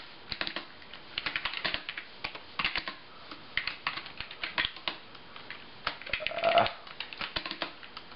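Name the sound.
typing on original Apple iMac keyboard, strawberry red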